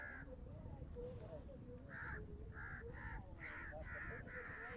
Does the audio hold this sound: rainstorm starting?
no